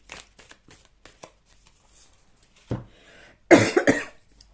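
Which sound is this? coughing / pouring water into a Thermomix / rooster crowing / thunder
coughing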